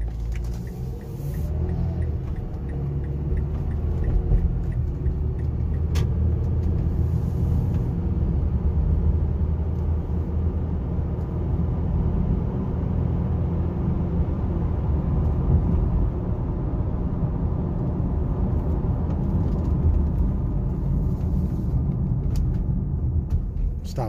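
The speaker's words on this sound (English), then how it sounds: "we're all ready to take it for a little test drive" A 2008 Mazda CX-7 Grand Touring with a 2.3-liter turbo four drives on a test drive, a steady low engine and road rumble heard from inside the cabin throughout.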